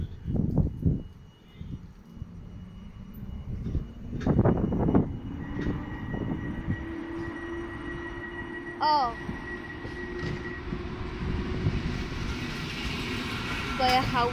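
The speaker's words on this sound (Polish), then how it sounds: "Pojechał pociąg PKP" A PKP Intercity passenger train pulls away from Elbląg station with a steadily rising engine drone and a horn-like tone, while a voice is heard nearby.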